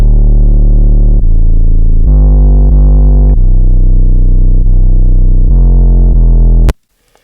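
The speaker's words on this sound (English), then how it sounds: "And then I have a second 808 pattern that plays during the verse, which sounds like this." A second FL Studio 808 bass pattern for a trap verse: booming, slightly distorted sub-bass notes sliding between pitches in an uneven rhythm, loud and alone, ending with a sudden cutoff.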